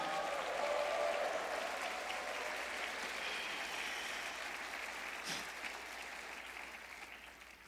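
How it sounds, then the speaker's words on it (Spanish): A church congregation applauds in a sustained wash of clapping that fades slowly over several seconds, heard at moderate distance in a reverberant hall. "Dele un grito de alabanza y un aplauso al Señor."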